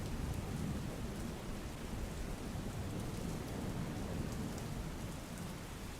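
Rain falls steadily and heavily on a fairground at a local fair in Dhrangadhra, Surendranagar, as a dense, even wash of noise with no other sounds standing out.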